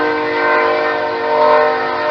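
A train horn sounds in a long, steady, loud blast for the whole stretch, its chord of tones holding with slight swells in volume and no voices over it.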